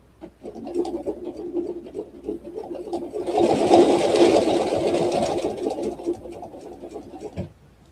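A sewing machine stitches a quilt panel along a ruler template, its rapid mechanical whirr rising louder in the middle of the run and then easing off, close by with no talking.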